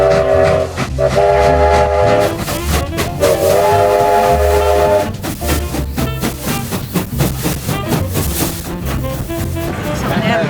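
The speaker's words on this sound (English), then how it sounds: "the train passes by at full steam" The Queenscliff historic Q Train steam locomotive passes at full steam, loud and close, with sustained whistle blasts over heavy rumbling and chuffing that grows busier and more rhythmic toward the end.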